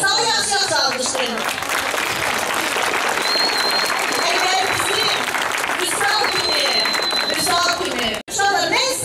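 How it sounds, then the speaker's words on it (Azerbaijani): Sustained applause and clapping from a school audience during an anniversary school event, steady and dense throughout, with a few voices mixed in and a brief dip near the end. "Vüsal, yaxşı alqışlayın"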